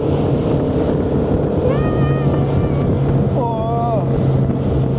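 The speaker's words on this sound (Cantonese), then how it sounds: "開船" A tour boat engine drones steadily as the boat sets off on the glacier lake below the Tasman Glacier. Wind buffets the microphone over the engine, and a few short wavering whistles rise above it.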